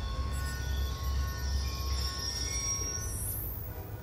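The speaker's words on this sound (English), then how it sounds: "Ain't getting anything else with that train in the way." In Call of Duty Black Ops 2, a train rumbles past with a heavy low roar and a steady wheel hum, ending in a rising metallic squeal. There is no talk.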